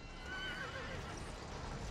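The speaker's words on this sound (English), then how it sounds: "Horsey." A horse in the Dead by Daylight video game gives a faint, brief neigh with clip-clop hooves against a steady game-ambience background.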